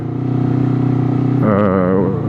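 A twin-cylinder Honda CBR250RR motorcycle engine holds a loud steady idle, then revs sharply upward with rising, wavering pitch before easing back, close and continuous throughout.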